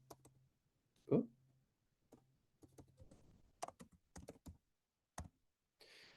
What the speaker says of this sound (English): If I know the address, which I'm going to type in